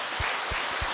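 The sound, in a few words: audience applause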